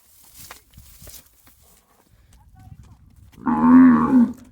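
A cow on a farm lets out a loud, drawn-out bellow near the end, after quieter rustling and faint distant sounds.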